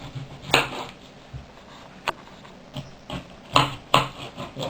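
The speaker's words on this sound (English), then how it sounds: "you got to cut the onion" A knife cuts an onion on a board in a home kitchen, giving a few scattered close chops and taps with pauses between them, fairly quiet with no voices.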